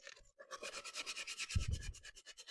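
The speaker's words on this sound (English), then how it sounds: "Sometimes it just leaves circles, so I have to hand sand." Furniture being hand sanded with 220 grit sandpaper: a soft, rhythmic rasp of back-and-forth strokes, close and fairly quiet, with one heavier scrubbing pass midway.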